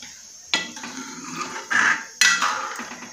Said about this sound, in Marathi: यामध्ये थोडं गरम पाणी घालूया